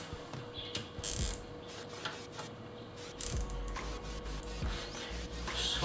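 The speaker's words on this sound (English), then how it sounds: "Just going to cable tie these together" A nylon cable tie ratchets tight around bundled computer cables during a PC build, several short bursts of close, dry clicking zips with brief pauses between pulls.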